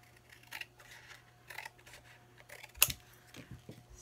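Scissors snip through paper for a handmade journal in a few quiet, separate cuts, with one sharper crisp snip standing out among soft rustles.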